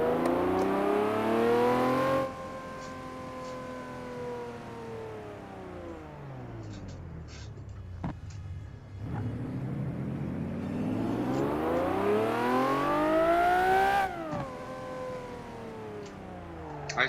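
A Lamborghini Murcielago LB640 in Assetto Corsa revs repeatedly, its V12 note sweeping up and down in long rising and falling arcs, loud and close with no talking.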